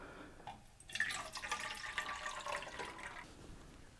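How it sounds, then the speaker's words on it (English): Liquid pours steadily into a cup for a few seconds, a soft splashing rush that fades out, with no talking. "We'll just pour this in our cup."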